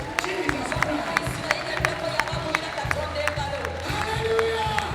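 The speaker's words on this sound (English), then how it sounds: "clap your hands to Jesus Christ" A church congregation claps along in sharp, regular beats that ring out over crowd noise and scattered voices. The rhythm stays moderately loud throughout.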